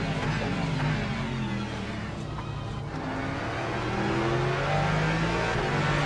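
Race car engine in Le Mans Ultimate accelerating down a straight at Spa, a loud continuous roar with rising engine pitch, other cars nearby, faint talk underneath.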